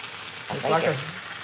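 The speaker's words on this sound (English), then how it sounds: "Then we'll roll it on over and sear the other side" Meat sears in a hot pan with a steady, close sizzling hiss that rises slightly as the piece is turned, while a brief voice sounds over it.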